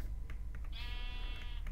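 A sheep in Minecraft gives a single short bleat, moderately faint over low background rumble and soft clicks.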